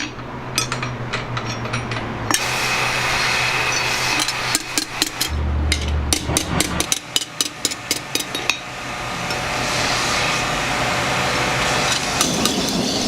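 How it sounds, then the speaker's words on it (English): A hammer strikes a steel knife blade in a traditional knife-making workshop, a fast run of sharp metallic taps in the middle amid steady workshop noise and machinery hum, with scattered single knocks before and after. "the knife is hit with the hammer to remove any remaining distortion"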